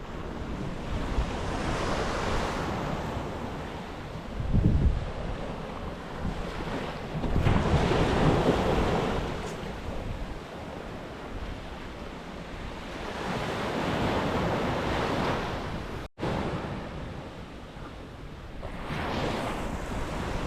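Surf rolls onto a sandy beach along the coast between Hopton on Sea and Gorleston on Sea, with steady wind buffeting the microphone and several louder wave surges rising and falling over about twenty seconds, no voices.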